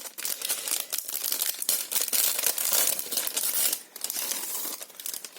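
A pretty birthday card handled up close, with continuous crinkling and crackling of paper or packaging in uneven bursts and brief pauses, fairly loud and with no talk.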